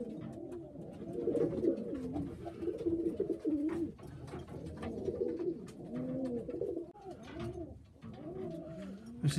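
Pigeons coo steadily and close by at a bird show, with overlapping throaty calls and wing shuffles filling the stretch and no talk over them.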